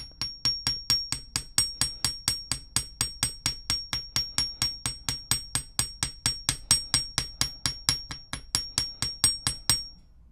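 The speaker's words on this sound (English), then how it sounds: "you can hammer this part with the bench block and hammer" Rapid, evenly spaced metallic hammer taps ring out close by, dozens of sharp strikes flattening jewelry wire on a steel bench block in a steady rhythm with no talking.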